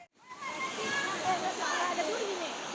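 River water at Sungai Ujung Bulan near Medan rushing and splashing, a continuous close, full wash of flowing water after a brief quiet start.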